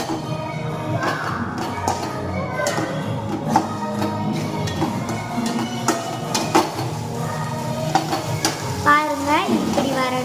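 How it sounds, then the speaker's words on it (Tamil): Chopped onions and tomatoes sauté in a pan for a chicken curry, making a busy continuous sizzle with frequent stirring scrapes and knocks close by. "இவ்வளோத்தையும் போட்டுக்கிறேன். நல்லா வதக்கலாம்."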